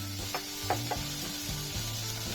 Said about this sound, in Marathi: आता त्याच्यात 1 चमचा मसालो, थोडीशी हळद